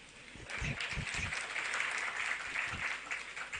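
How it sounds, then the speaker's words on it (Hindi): Applause from a seated audience at a Jain religious discourse by a monk, a dense steady clatter of many hands clapping together and filling the room from start to finish. "इस बार बोलना नहीं पड़ा कि ताली बजाओ"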